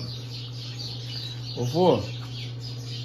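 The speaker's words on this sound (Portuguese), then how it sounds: "Olha os passarinhos." Small birds chirp faintly in the background outdoors over a steady low hum, while a person speaks briefly.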